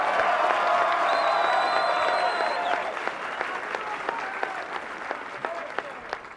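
An audience at a speech to small business owners in Hudsonville, Michigan applauds warmly, with a loud burst of clapping and a few cheers that thins out after about three seconds into scattered claps.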